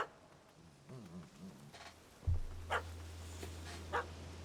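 A dog barks in The Witcher 3: Wild Hunt, with a few sharp, separate barks ringing out over a steady low game hum and faint background sounds.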